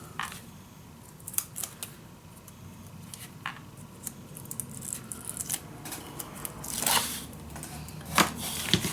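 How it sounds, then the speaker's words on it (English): Sticker backing being peeled off during mini album paper crafting, heard as close, faint crackly scrapes and brief tearing rasps scattered over several seconds, with no speech. "Peel this off."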